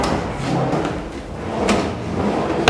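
A kitchen drawer in a Kenyan bungalow slides open or shut with a steady rolling rumble and a soft knock near the end, close and fairly loud.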